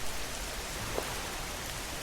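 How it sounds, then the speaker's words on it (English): Rain falls indoors through a leaky roof in the video game Schedule 1, a steady, soft hiss of patter spreading evenly throughout with no distinct drops standing out. "how the hell is it raining inside?"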